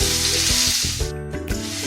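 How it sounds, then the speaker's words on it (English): Sopas ingredients sizzle and fry steadily in a hot pan, a close, continuous crackling hiss with brief stirring shifts and no talk. "So now that we fry for a few minutes"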